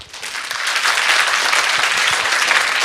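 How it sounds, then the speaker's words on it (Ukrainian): Applause for the architect Marko Savytskyi swells from a quieter start into full, dense clapping from a large audience, holding loud and steady through the rest of the moment. "Гучніше, гучніше, гучніше оплески."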